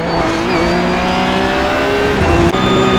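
A race car engine in a sim racing game drones loud and steady at high revs, its whine holding level, then dipping briefly and rising again as the car runs on through a lap.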